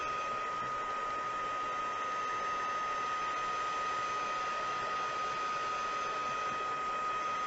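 A heat tool blows continuously to heat set craft paint, a steady close whooshing hiss with a fixed motor whine throughout, no voices.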